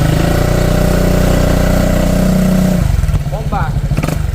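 A Honda Click 160 motorcycle fitted with a Sun Silent Killer exhaust pipe with no catalytic converter idles close by with a steady, throbbing rumble, then settles into a choppier rhythm while a person speaks.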